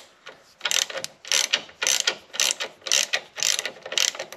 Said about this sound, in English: 15 millimeter socket goes on here.